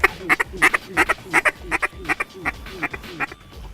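Ducks quack repeatedly in rapid, overlapping bursts near a hunting blind, a busy rhythmic chorus of honking calls.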